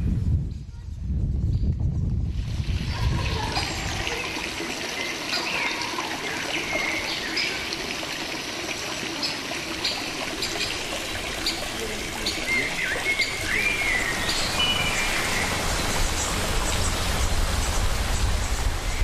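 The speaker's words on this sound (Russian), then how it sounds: "но и шум воды. Прямо из-под земли бьет целый ряд родников." Springs welling up from underground in a quiet green corner of a city centre make a steady, close rushing and trickling, with birds chirping faintly above the water.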